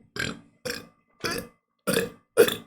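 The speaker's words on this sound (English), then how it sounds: "how many burps was that?" Five loud, separate burps in a row, each about a third of a second long, spaced evenly with short silences between them.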